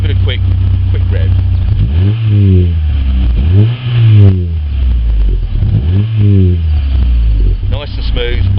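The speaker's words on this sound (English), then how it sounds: "Let's give it a quick rev." A car engine is revved hard while standing, giving three or four sharp blips that rise and fall back to a smooth idle, close and loud, with no talk over it.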